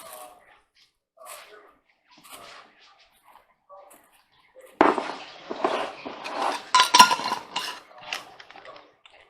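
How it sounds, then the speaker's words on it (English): A simple electric coffee grinder powders freeze-dried stevia leaves: after a few quiet handling taps, a loud, gritty whir starts suddenly and pulses in uneven bursts for several seconds. "I have a simple coffee grinder."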